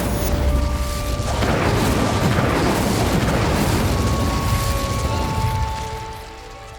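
Casting the Incendio fire spell in Hogwarts Legacy unleashes a loud, roaring whoosh of flame with a booming burst, a broad blast that sustains for several seconds and then tapers off, with faint tonal game effects threaded through it.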